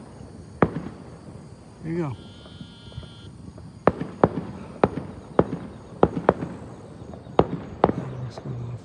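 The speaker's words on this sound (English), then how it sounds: "Fireworks going off here." A string of sharp firework bangs pops at irregular intervals outdoors, with a brief animal-like bleat and a few spoken words in between.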